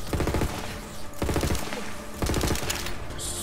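Borderlands 3 gunfire rattles out in three rapid automatic bursts, loud and close, with a short electronic sound at the end.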